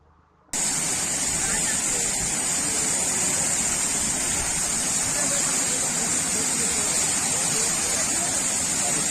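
Water gushing from a burst Mission Bhagiratha drinking-water pipeline near Kottal, Yellareddy in Kamareddy district, a loud steady hissing roar of spray that starts abruptly after a moment of quiet and holds constant.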